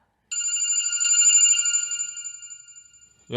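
A telephone rings once, loud and close, a steady electronic trill lasting about three seconds in a quiet room during a Korean horror audio drama. A voice begins right at the end.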